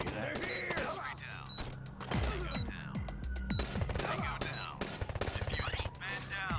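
Bursts of rapid gunfire crack through a Door Kickers tactical game fight, with clustered automatic volleys and single shots spread throughout, mixed with mechanical clicks and someone talking over them.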